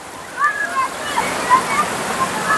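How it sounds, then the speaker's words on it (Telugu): Wading through the shallow, cold river water of Saklikent Canyon in Turkey, a continuous rushing and splashing wash of water with faint brief chirps above it, no voices heard. "ఈ వాటర్లో నడవడం ఫస్ట్ ఒక 5-10 మినిట్స్ వరకు కూడా ఫన్ అనిపించవచ్చు."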